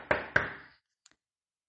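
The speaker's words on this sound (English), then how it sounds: "He knocked on the door," Two sharp knocks on a door sound close and distinct, each with a short decaying ring, followed by silence with a few faint clicks.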